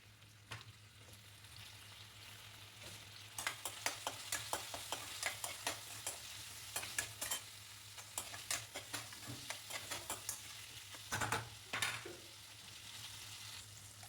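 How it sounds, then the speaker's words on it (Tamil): Drumstick and brinjal sautéing with onion and tomato in a pan: a steady sizzle of frying broken by repeated scraping stir strokes in quick bursts, close and fairly quiet, with no talking. "கூடவே கத்திரிக்காயும் சேர்த்து நல்லா வதக்கி விட்டுருங்க."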